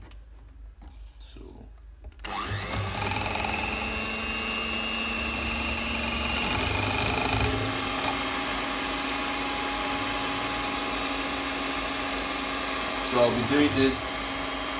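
An electric whisk mixes shea butter soap made with lye water from wood ashes. It starts abruptly with a steady, loud motor whine that runs through the clip, and a voice speaks briefly over it.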